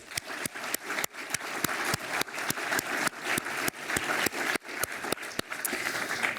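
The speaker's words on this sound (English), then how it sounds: "Please join me in giving them a round of applause." Applause for sponsors at a law school alumni awards event, with sharp, distinct hand claps in a quick rhythm over a softer spread of clapping, steady throughout.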